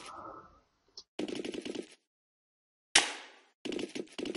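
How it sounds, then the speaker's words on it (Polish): Gunshots in the Happy Wheels video game: a few sharp, loud bursts of rapid cracks separated by silent gaps, with a brief low rumble at the start. "na to brzmi jak wystrzały"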